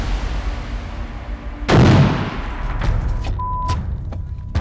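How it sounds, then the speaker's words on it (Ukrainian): A single mortar shot fired at a frontline position in Ukraine, a loud close thump followed by a fading rumble over steady outdoor background noise. "Працює міномет."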